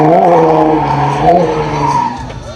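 A drifting car's tires squeal and skid loudly across pavement at a Guam car-culture event, a continuous wavering screech layered over a roaring engine, close and sustained throughout.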